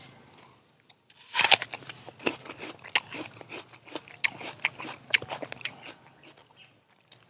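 A crisp bite into a Gold Rush apple from a warm-climate harvest in Jamaica, one loud snap followed by a steady run of close, wet crunching chews, with no talk.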